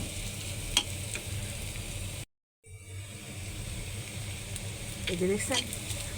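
Spices sizzle steadily in a hot pan while cooking a dried fish curry, with a brief cutout midway and stirring noises near the end.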